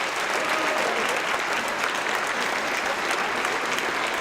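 Audience applause at a Veterans Day program, dense and steady throughout, a full room clapping at an even level without any talking.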